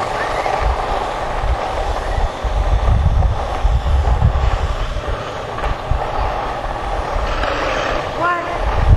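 An airplane in the Webkinz game flies past with a loud, broad roaring drone that rises and holds, while voices chatter over it.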